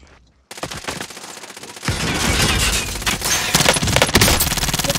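Rapid automatic gunfire in a Counter-Strike match, with loud, dense machine-gun bursts starting abruptly after a brief silence and continuing almost without pause at close range.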